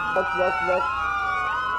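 A police car siren wails in a GTA roleplay game, a brief rising-and-falling electronic tone with a short yelp pattern at the start, loud and close.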